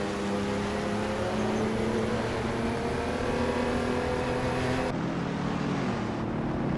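Race cars roaring in a racing video game, a continuous loud engine drone with layered, steady revs that drops suddenly near the end, without any talking.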